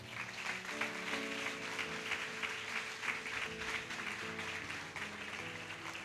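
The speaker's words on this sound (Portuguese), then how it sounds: "Aplauda o nome do Senhor Jesus." A church congregation applauding together, a dense sustained wash of clapping filling the room at moderate distance, with a soft musical backing tone underneath and no speech over it.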